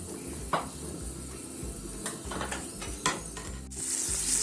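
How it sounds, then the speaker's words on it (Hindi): Sliced onions fry in a large pot with a constant crackling sizzle, punctuated by occasional clinks and scrapes of a spoon against the metal. "तो अब हम इसके अंदर प्याज फ्राई करते हैं"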